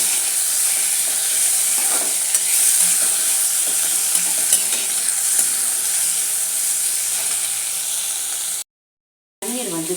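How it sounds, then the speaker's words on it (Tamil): Cashews and other ingredients sautéed in oil for peas pulao give a steady, dense sizzle close up, with light stirring scrapes throughout, cut off abruptly by a short silence near the end. "முந்திரி பருப்பு எல்லாமே சேர்த்துட்டு இப்போ நம்ம இதை கொஞ்சம் வதக்கி வைக்கணும்"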